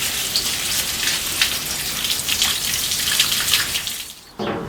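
Water poured from a clay amphora onto a plant, a steady splashing patter like rain on leaves and soil that runs for about four seconds, then breaks off abruptly.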